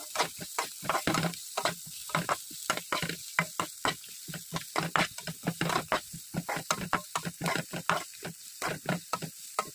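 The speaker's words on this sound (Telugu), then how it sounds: "ఇంతకుముందు మనము ఆనియన్స్ కట్ చేసి పెట్టాం కదా అది కూడా ఇందులోకి వేసి వేయించుకుంటాం" Cut onions are tossed into hot oil in a pan for a brinjal curd curry, giving a dense rhythmic sizzle with repeated stirring strokes and scrapes, close and fairly loud.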